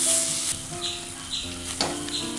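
Ground tomato hits a hot pan of chana masala and sizzles while being stirred, a soft crackling fry with brief scraping strokes, close and fairly quiet without speech.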